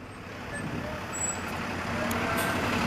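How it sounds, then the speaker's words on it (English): A truck rumbles along Rue Moreau in Montreal's Hochelaga district, a low engine drone that grows louder as it nears, with city street ambience around it. "Oh man, I thought it was a CP train. That's a cool truck though."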